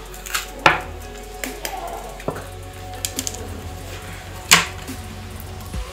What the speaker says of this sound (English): So just cut your capsicum into